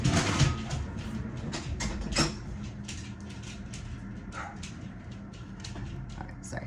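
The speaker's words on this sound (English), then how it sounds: "my dog's gonna be barking" A pet dog barking and yipping behind a closed door, muffled and somewhat distant, with a cluster of sharper barks early on and softer scattered yelps after, over a quiet indoor background.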